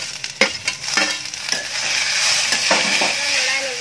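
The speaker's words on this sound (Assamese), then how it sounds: "এতিয়া মই ইয়াত দি দিছো কাটি লোৱা বিলাহী" Chopped tomatoes and cashews being stirred and fried in a pan for shahi paneer, with a steady close sizzle and a few sharp spoon scrapes against the metal, no talking.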